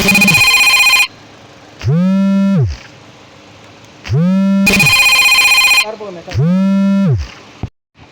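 A telephone rings in a car repair workshop: two loud, bright electronic ringtone bursts with sweeping, melodic tones between them, repeating close by for several seconds.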